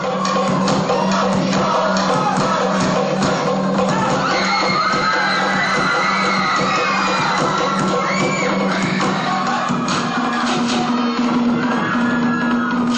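A packed festival crowd at a school Polynesian performance event shouts, whoops and cheers nonstop for a Tongan College boys' group, a dense, loud wall of voices that keeps going without a break.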